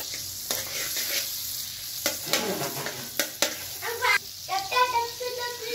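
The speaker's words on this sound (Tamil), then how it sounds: "பட்டர் எல்லாம் மெல்ட் ஆயிடுச்சு." Butter melting and sizzling in a hot pan while making fried paneer Maggi, a steady soft fry broken by stirring scrapes and clinks, with faint voices in the background.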